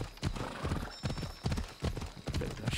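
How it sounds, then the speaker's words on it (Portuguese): Horse hooves clopping steadily in Assassin's Creed Odyssey, a strong horse trotting with a regular rhythm of loud, close hoofbeats, with faint whinnying in the background. "Parece um cavalo forte."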